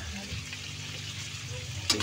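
Shrimp stirred in a pan as it cooks, a soft steady sizzle with light scraping, a quick clatter near the end, and a voice faintly present underneath.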